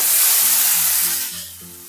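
Vegetables hit hot oil in a pan for a Bengali fish curry (macher jhol). A loud, close hiss bursts up and fades within two seconds over a soft, low tonal background.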